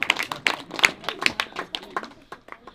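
Audience applause during a quiz about Nepal's districts, a burst of hand claps with a fairly quick, uneven rhythm, moderately loud and close, fading a little toward the end.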